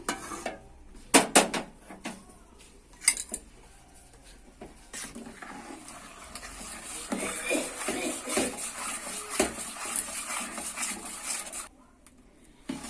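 A spoon stirring rice flour batter with milk in a pot, with scattered clinks against the rim early on, then a steadier stretch of scraping and swishing for several seconds.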